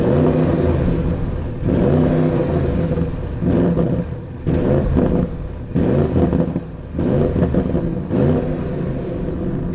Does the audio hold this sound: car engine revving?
yes